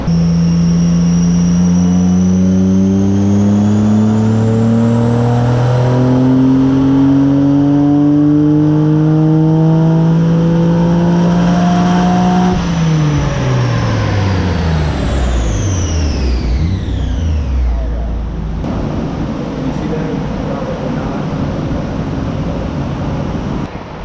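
Stock-turbo car engine revving hard on a dyno, its pitch sweeping up over a long pull before dropping off sharply as the throttle closes, leaving a quieter idle and room noise.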